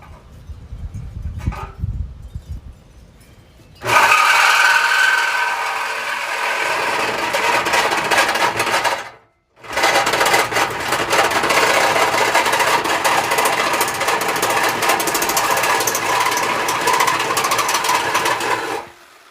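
A cutting tool saws through the factory exhaust pipe on a Camaro SS, up close. The harsh, loud grinding runs continuously for about fifteen seconds, with one brief pause in the middle.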